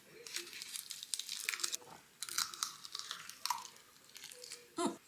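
Close, wet chewing of jokbal and jeon stew at a home drinking meal, with repeated crunches and smacking bites in irregular bursts and a brief louder crunch near the end.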